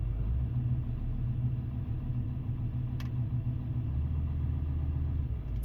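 V10 TDI Volkswagen Touareg diesel engine idling with a steady low rumble throughout, close and even, with no talk over it.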